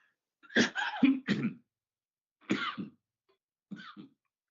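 A series of coughs in three bursts, a rough double cough, then another, then a softer pair, close and loud against silence.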